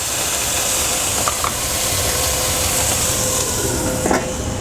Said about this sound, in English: The water will create steam and help the veggies cook faster.